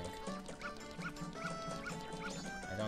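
Dog barking inside the video game The Legend of Zelda: Majora's Mask, a run of short, evenly spaced barks and yips over steady game music, fairly close and clear.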